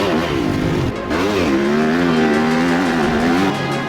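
Enduro dirt bikes run on the throttle through soft sand, their engines loud and close, revving hard with rising and falling pitch as the riders land from jumps.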